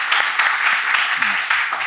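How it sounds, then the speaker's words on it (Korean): A church audience claps in thanks for the pastor, a brief, moderately loud burst of applause with a few sharper individual claps and faint voices underneath. "우리 이승동 목사님 잠깐 지나시면 우리 좀 감사의 박수를 한번 이렇게 하면 좋을 것 같습니다"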